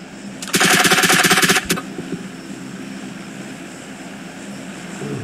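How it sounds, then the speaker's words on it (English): A long-range gunfire burst rings out in a competitive video game scrim, with a dense, loud volley of about a second and then a few scattered shots fading under a steady background hum. "feeling the effects of that long range fire"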